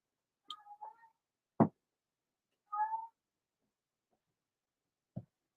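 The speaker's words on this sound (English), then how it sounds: "you guys hear my cat?" A pet cat meows indoors, two short, clear meows separated by quiet, with a few sharp knocks or taps in between and no talking.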